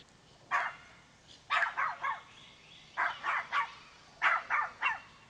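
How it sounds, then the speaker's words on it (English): A dog barks in recorded footage, with clusters of sharp mid-pitched barks coming in three or four bursts of two to three barks each, moderately close over a quiet background. "Video footage of a dog."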